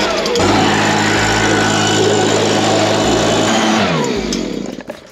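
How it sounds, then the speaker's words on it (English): A leaf blower's small engine roars steadily at high speed, a continuous loud whine and drone that eases off and fades near the end. "I'm gonna use a leaf blower and blow whatever water's left"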